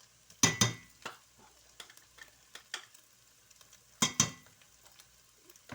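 Garlic and salt cooking in a pan for a quick beans and ground chicken dish, heat turned low, with a spoon clattering and scraping against the pan in two short bursts and lighter taps between, otherwise quiet with no talk.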